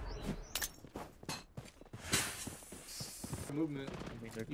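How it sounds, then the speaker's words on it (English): Gunfire in the shooter BloodStrike: scattered sharp shots and short bursts at varying distances, some close and loud, mixed with game effects and a few spoken voices. "I'm getting shot from everywhere"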